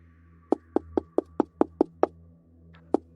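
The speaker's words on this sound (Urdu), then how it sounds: "وہ آواز جیسے کسی کی کھٹکھٹانے کی آواز لگنے لگی" Someone knocks on a bedroom window at night: a series of about eight sharp, evenly spaced raps, a short pause, then two more knocks, loud and close over a quiet low hum.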